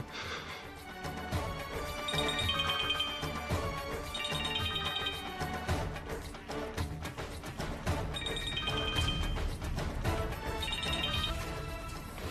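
A phone rings on and on with no answer, a repeating electronic ringtone with bursts of higher chime notes, steady and fairly loud over a busy background, heard during a Pavitra Rishta TV drama scene.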